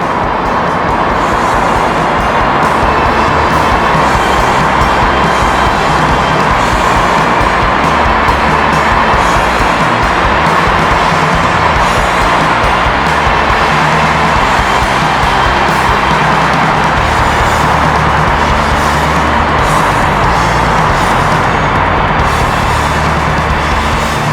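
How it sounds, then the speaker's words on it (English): A car roars loudly through an echoing tunnel, its engine noise sustained and reverberant for a long stretch, with no talking. "we've got another car coming that's going to make an absolute monster of a roar as it comes speeding through the tunnel"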